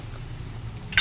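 Chicken being stirred while cooking in a pan for a pineapple chicken pastel dish, a soft continuous sizzle with a brief scrape of stirring at the end.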